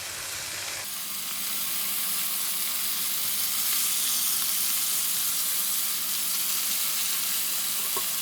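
Oiled pork shoulder sizzling and hissing steadily on a hot pan or grill, a close, continuous frying crackle with no talk.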